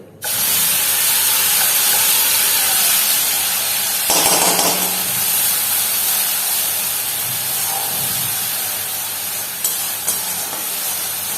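Onion, ginger, garlic and tomato paste hits hot oil in a frying pan with a sudden loud sizzle that settles into a steady, dense crackling hiss, with a brief surge midway.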